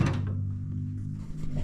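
Drawer of a U.S. General 30-inch 4-drawer tool cart from Harbor Freight sliding shut, a single soft close with a low rumbling slide and a faint thunk, heard alone and nearby.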